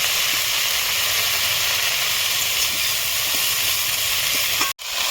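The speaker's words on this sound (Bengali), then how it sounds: "আমি পেঁয়াজের পাতাগুলো ভালো করে ভেজে নেবো।" Onion leaves fried with a sprinkle of salt in a pan hiss in a loud, steady, close sizzle that cuts out abruptly for an instant near the end, with no talking.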